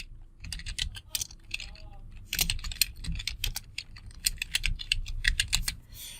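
Rapid clicky keystrokes on a computer keyboard come in irregular bursts with short pauses, close and fairly crisp, as a quiz question for students is typed into a form.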